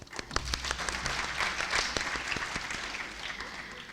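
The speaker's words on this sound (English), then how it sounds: "first of all, a round of applause." A conference audience applauds at the close of a meeting session, giving steady, dense clapping that holds at an even level for several seconds.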